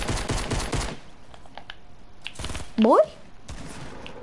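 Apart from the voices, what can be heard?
shotgun fire in a video game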